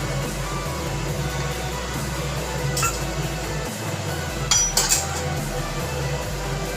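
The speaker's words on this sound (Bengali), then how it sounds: "এবার একটু নাড়াচাড়া করে দেব।" A spoon stirring khichdi, the Bengali spiced rice and lentil dish, in a metal cooking pot, with scattered clinks and scrapes of metal on metal over a steady sizzling hiss, close by.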